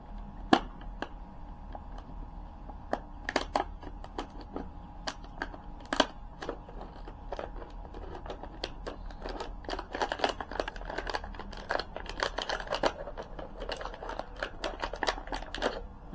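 A plastic bottle being cut by hand gives off scattered crackling snaps and crinkles, brief sharp bursts of varying loudness repeating irregularly at close range with no talking.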